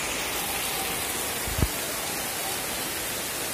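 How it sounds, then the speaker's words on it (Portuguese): Heavy rain pours in a steady, dense hiss, with a single brief low thump partway through. "Tá chovendo muito forte."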